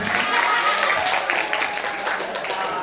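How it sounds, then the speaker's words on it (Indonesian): An audience of school students claps together at a Ramadan school event. The applause is steady and dense and holds at an even, fairly loud level throughout. "Ayo, tepuk tangan untuk cinta."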